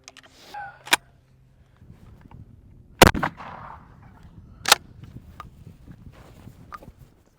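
A 12 gauge shotgun slug fired from a Churchill shotgun gives sharp, loud reports, with the strongest blast near the middle and smaller cracks before and after, plus faint shuffling between shots.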